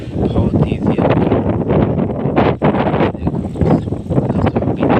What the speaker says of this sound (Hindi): दोस्तों अभी तेज़ हवा चल रहा है